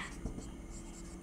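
Pen scratching out a binomial theorem math solution on paper, a faint, close, brief run of scribbling strokes under soft low speech.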